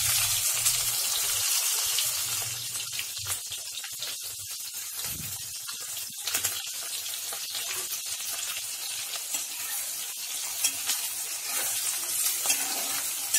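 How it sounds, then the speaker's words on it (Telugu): Sliced onion frying in hot oil with cumin seeds in a home kitchen pan: a steady, loud sizzle and crackle with occasional stirring scrapes, continuing without pause and with no voices. "నూనె కాంగినాక దాంట్లో పెద్ద జీలకర్ర వేసాను జీలకర్ర నస చిట్లినాక దాంట్లో ఉల్లిగడ్డ వేసాను"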